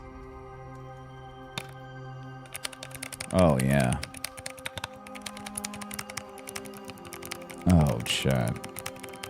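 Clicky mechanical keyboard fitted with Glorious Raptor switches and translucent putty keycaps, a steady fast patter of sharp key clicks close up, with two short spoken exclamations over the typing.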